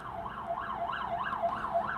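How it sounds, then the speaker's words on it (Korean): An ambulance siren wails outside in a steady rising-and-falling cycle, muffled and fairly distant, sustained with no speech over it. "마침 또 밖에 앰뷸런스가 지나가면서 좀 분위기를 조성하고 있는데"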